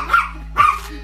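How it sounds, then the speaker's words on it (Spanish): A dog gives two short barks about half a second apart at a family Father's Day gathering at home, close and moderately loud over a low steady hum. "La perra te delata, Diana."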